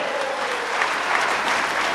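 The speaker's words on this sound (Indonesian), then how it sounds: "kasih tepuk tangan tuh semangatnya Bapak Ibu semua" Steady applause from a seminar audience fills the room, dense and even for about two seconds, with a faint cheer or shout rising briefly in the middle.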